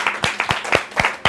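An audience at a speaking-club night claps in a thin, uneven patter of a handful of separate hand claps, fairly close, with no talking.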